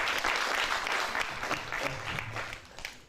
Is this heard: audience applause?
yes